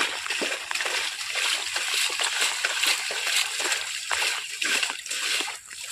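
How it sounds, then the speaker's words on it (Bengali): Water splashes and rushes out steadily when released, a continuous close slosh and gurgle with little else over it. "এটা ছেড়ে দিলেই তো জল চলে যাবে"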